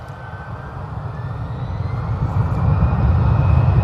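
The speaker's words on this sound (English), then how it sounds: "There's another Ryanair coming in." A Ryanair airliner approaching to land at Manchester Airport gives a steady broadband engine roar that swells gradually louder as it nears.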